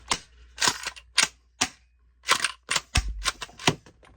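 Pump action of a shell-ejecting 870-style gel blaster being cycled repeatedly, sharp plastic clacks and slides in quick pairs with short pauses, close and loud, no talk.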